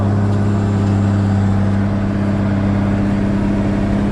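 A loud, steady Zetor tractor engine drones with a deep low rumble, laboring continuously uphill without pause and close up.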